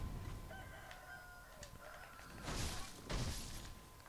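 A rooster crows in the video game Sekiro: Shadows Die Twice, in Mibu Village, two loud ragged calls near the end over quiet game ambience with faint tonal music and scattered clicks.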